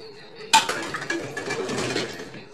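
Dishes being washed in a kitchen sink with homemade lemon dish soap, starting with a sharp clatter followed by repeated clinks and knocks of plates and utensils, close and fairly clear.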